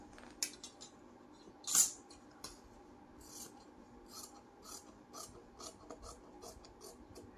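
Scissors cut blouse fabric in faint, close snips, with one sharper scrape early and then a run of small regular cuts toward the end over a quiet room.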